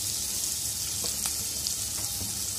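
Onion and tomato fry in oil for an egg curry, giving a steady, close sizzling hiss with a few light clicks and pops scattered through it. No one speaks.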